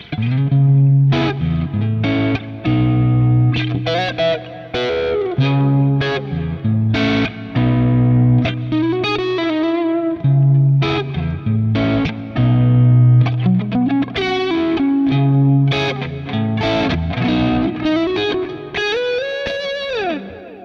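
An electric guitar through warm overdrive from a Klon pedal plays a lively riff of chords and single notes with slides and bends, steady and loud with no talking.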